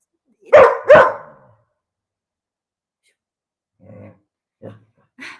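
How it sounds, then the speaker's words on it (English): A dog gives two sharp, loud barks close by, followed after a pause by a few softer, shorter woofs. "we will just have my dog barking"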